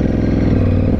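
Ducati Scrambler 1100 V-twin engine idling up close, a loud, steady low throb with a dense mechanical patter and a faint clatter running through it, with no voices.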